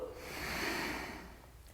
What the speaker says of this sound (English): We've got 5 breaths.